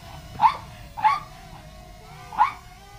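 Three sharp barks from a dog chasing a GTeng T908W Wi-Fi camera drone, the first two close together and the third after a pause, fairly close and clear with no voices over them.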